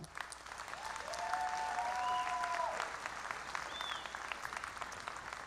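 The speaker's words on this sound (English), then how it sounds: "Graduates, give a big round of applause to instructors, staff, managers, testers, and volunteers who helped you along the way" Graduates and guests at an adult high school equivalency graduation ceremony applaud instructors, staff and volunteers, a sustained wash of clapping from a large room, moderately distant and even, with faint tonal whistles over it.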